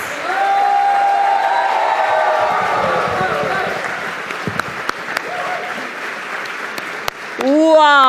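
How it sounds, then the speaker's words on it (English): An audience at the Women of Worth 2019 event in Mumbai breaks into sustained applause and cheering, with a dense roar of clapping that slowly thins out. Whoops and scattered voices are heard near the end. "put your hands together in a warm round of applause for all of you fantastic women of worth"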